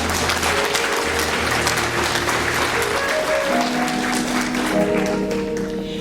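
Audience applause at the 2021 Les Martinique Debutante Ball, a steady clapping crowd filling the room at moderate loudness, with music tones sustained underneath.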